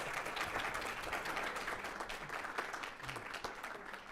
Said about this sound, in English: And the applause, of course.